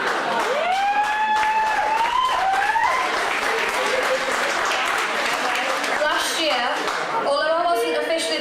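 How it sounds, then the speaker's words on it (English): Audience applause at a university presentation evening on a Warrington campus, dense and steady clapping filling the hall throughout, with a voice and some whistles or cheers rising over it near the start and again at the end. "We should give them all a round of applause for that."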